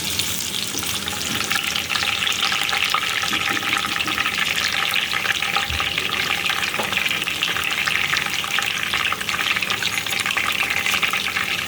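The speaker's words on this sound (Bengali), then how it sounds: "এখন এগুলো সামান্য একটু ভাজা ভাজা হবে।" Bay leaves and cinnamon sizzle in hot white oil in a pan, a steady, loud, even frying hiss that fills the whole stretch with no talking.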